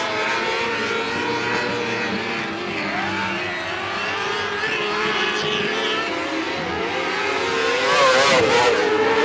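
Sprint cars racing in a dirt-track heat race, several engines roaring and revving together at a steady distance, with the pitch rising and falling as the cars pass and the sound swelling near the end.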